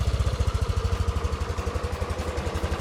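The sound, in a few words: Yamaha Aerox 155 scooter exhaust idling after tune-up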